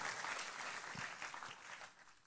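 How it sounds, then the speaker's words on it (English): A church congregation claps together in a steady, diffuse wash of applause, moderately distant and fairly quiet, holding evenly for a couple of seconds. "give Him a clap offering right now"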